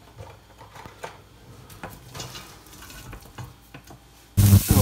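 Chopped onion sautés in a pan for an aubergine gratin, a faint crackling sizzle with scattered light stirring ticks, ending in a sudden loud burst of noise near the end.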